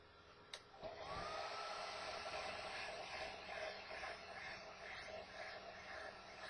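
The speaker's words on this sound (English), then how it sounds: "We're just waving the hair dryer back and forth over the salt to get the moisture from the water" A hair dryer waved back and forth over damp salt on a model car fender, giving a steady, close, loud blowing whir that holds for several seconds with slight swells as it moves.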